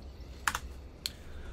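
A few quick keystrokes on a computer keyboard while playing the shooter Toxikk, two close clicks followed by a single one, with low hum behind and no talk.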